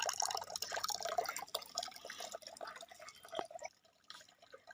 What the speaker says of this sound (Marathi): बघा किती पाणी आलं नळाला एवढं एवढं पाणी आलं आहे